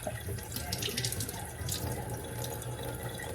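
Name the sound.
water running from a sink faucet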